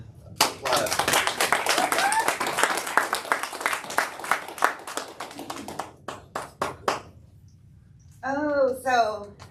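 Audience applause at a gathering as a guest is welcomed up to share her testimony, a dense burst of clapping that thins to scattered claps before a voice starts talking.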